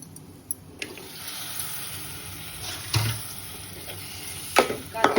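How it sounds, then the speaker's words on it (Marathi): Prawns hit hot oil spiced with red chilli in a pan, giving a soft continuous sizzle with a few louder spits and stirring clatters scattered through it, close and moderately loud. "मी कोलब्या टाकून घेते."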